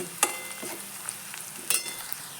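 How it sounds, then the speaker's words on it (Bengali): Cumin and black pepper powder stirred into a spice mix frying in a pan, soft sizzle with a few sharp spoon scrapes against the pan, close and fairly quiet. "আর দেব জিরে গুঁড়ো আর গোলমরিচের গুঁড়ো একসঙ্গে দিয়ে মশলাটা আর একটু ভালো করে মিশিয়ে নেব"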